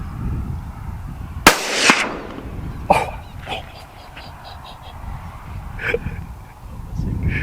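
A single sharp rifle crack rings out across open prairie during a prairie dog shoot, followed by a brief echo and scattered faint knocks, with outdoor background noise.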